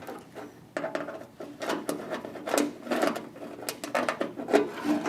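A prototype Ford Bronco door bracket is reached for, gripped and pulled free inside a door shell with the window raised, giving a run of close, light plastic and metal clicks, taps and rattles with no talk.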